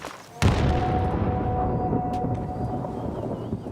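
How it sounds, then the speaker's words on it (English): Battlefield 6 Yeti Easter egg on the Golmud Railway map: a sharp explosion on a mountainside, followed by a long, rumbling tail with a faint high cry mixed into the echo. "when you shoot at that glint with a sniper rifle, there will be an explosion and a scream from the mountainside"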